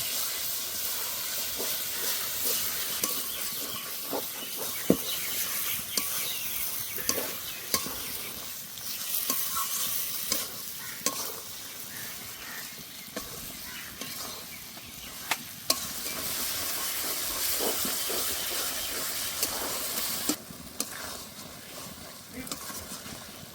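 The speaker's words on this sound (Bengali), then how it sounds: "এবার ভালো করে কষে নেব" Small pieces of chicken meat are sautéed in oil in a pan for chicken ghugni, making a continuous sizzle broken by repeated scraping stirs and clacks of a spoon, close and moderately loud, with no talk.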